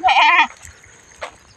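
A single sharp, loud goat bleat rings out up close as the herd heads to the fields, calling for kids left at home, then quiet background noise follows.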